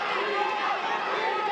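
Boxing fight crowd, a Latino contingent cheering behind fighter Technotitlan Nava at a Westside Boxing club show in LA, a dense, steady roar of many voices filling the space with no breaks.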